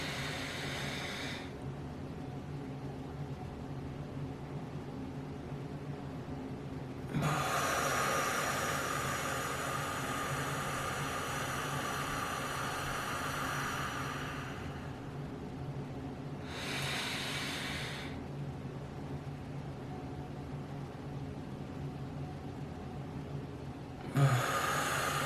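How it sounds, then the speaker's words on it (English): A person demonstrating a breathing technique takes slow, deep breaths, each one a long soft airy hiss lasting several seconds, close and quiet with no talking. "you breathe in for 4 seconds"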